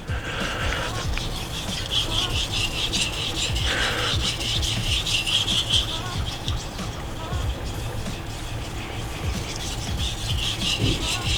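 A santoku knife is drawn over a sharpening stone in steady, repeated rasping strokes, a continuous gritty rubbing at moderate level with no voice over it.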